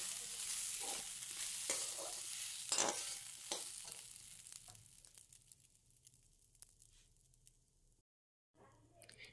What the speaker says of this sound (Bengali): এখানে আমি সবসময় নাড়াচাড়া করছিলাম, যাতে নাড়াচাড়া না করলে কি হয়, কড়াতে লেগে যায়